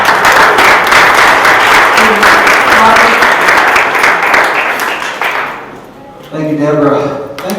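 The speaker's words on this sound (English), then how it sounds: "Let's give them a big round of applause." Audience applause fills an awards ceremony hall in downtown Rock Hill, a loud, dense, sustained clapping that fades after about six seconds before a brief, softer burst resumes near the end.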